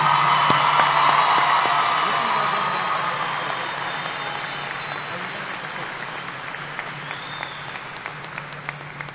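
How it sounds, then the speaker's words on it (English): Warm applause from a crowd at a graduation ceremony, loud at first and then gradually fading over several seconds, with a few scattered claps lingering. "Let's give her a round of applause."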